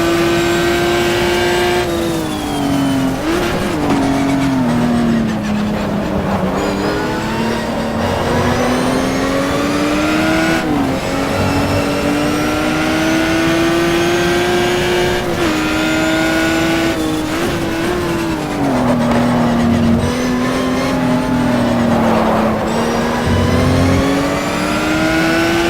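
A race car engine in the Simbin GTR2 racing game, loud and continuous, rising and falling through the gears with revving sweeps, shifts and downshift blips across the lap.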